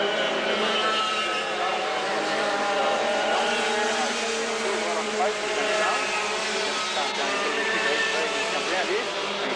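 Several go-kart engines race on a dirt track, a loud continuous buzzing drone with overlapping pitch sweeps as karts pass and rev, with commentary talking over the engines.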